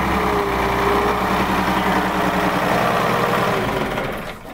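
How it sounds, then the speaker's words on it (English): A Detroit Diesel 6V53 engine runs loudly and steadily with a rough, rapid knocking throb and dense mechanical clatter, then fades slightly in the last half second. "I'm going to turn on the engine."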